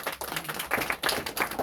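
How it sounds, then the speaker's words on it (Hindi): Scattered audience clapping at a Shivratri flag-hoisting gathering in Ganesh Nagar, Delhi, a few uneven bursts of hand claps, moderately close with room noise and no talk. "एक बार उनके लिए ताली बजाएं।"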